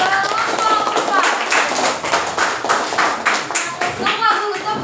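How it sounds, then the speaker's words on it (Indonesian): A classroom of students applauds a presenting group, with dense, steady hand clapping from many people up close and voices chattering underneath. "tepuk tangan untuk kelompok 4"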